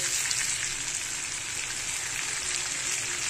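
Fish sizzles in hot oil in a pan, a steady, close, crackling hiss that carries on without a break and stays even in loudness.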